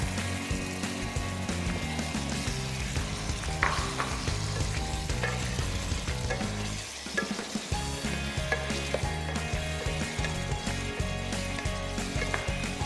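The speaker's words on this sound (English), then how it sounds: "So we're going to put our Australian lamb inside the pot" Australian lamb going into a pot for lamb soup, with a steady dense sizzle and stirring that continues throughout, close and fairly loud, with a brief dip near the middle.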